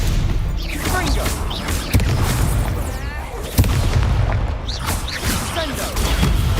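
A fiery Confringo curse in Hogwarts Legacy bursts as a couple of sharp, loud blasts amid ongoing spell-combat rumble, with voices heard throughout.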